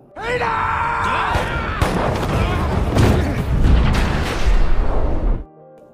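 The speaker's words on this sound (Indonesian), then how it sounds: "sehingga terjadilah aksi tembak-tembakan lagi" A film-soundtrack gunfight with loud, dense bursts of gunfire and booming impacts layered over dramatic music, continuing without pause until the sound cuts off abruptly near the end.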